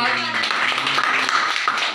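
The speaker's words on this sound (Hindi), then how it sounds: "तालियां बजती रहें।" An audience claps steadily at a New Year poetry gathering and competition in Tundla, a dense run of hand claps with a voice speaking over it throughout.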